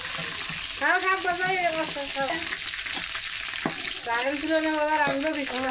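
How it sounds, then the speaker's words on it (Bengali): Chicken pieces fry in hot oil in a home kitchen with a steady sizzle, while someone talks over it in stretches. "তো আমি মাংসটা কিন্তু নেড়ে ছেড়ে ভেজে নিলাম"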